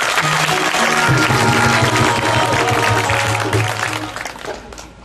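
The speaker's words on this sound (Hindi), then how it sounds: "बहुत बहुत स्वागत है, जोरदार तालियों के साथ" A crowd claps steadily in a hall during a Navratri religious discourse gathering, the close, busy patter carried over a sustained musical drone before gradually easing off toward the end.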